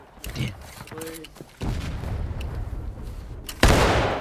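A close musket volley in the War of Rights video game, a sudden loud crashing blast of many shots at once near the end, preceded by scattered distant gunfire and shouted commands from men in the line.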